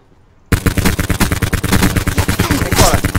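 Gunfire in Call of Duty Black Ops 4 Blackout: after half a second of quiet, loud rapid automatic bursts erupt up close and keep going in dense, rattling volleys to the end.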